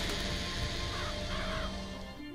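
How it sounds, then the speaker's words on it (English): Summoned by a crow vigor in Bioshock Infinite, crows caw over a steady, dense wash of game ambience, the harsh calls blending into a constant loud noise bed. "Press to summon murderous crows."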